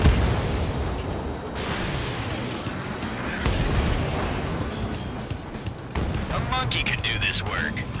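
In Ace Combat 7: Skies Unknown, missiles launch and explode in heavy, rumbling bursts over constant roaring noise. The sound stays loud and dense throughout and ends with a sharper whoosh and whine.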